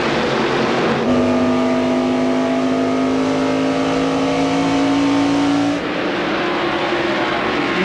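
A field of race cars at the 2000 Sam's Club 200 accelerating after a green flag restart, engines roaring loudly and steadily with a sustained high drone before it drops away near the end.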